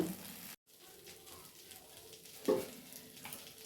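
Eggplant sizzles steadily in a hot pan, a soft continuous frying hiss with a brief break and a small clatter midway.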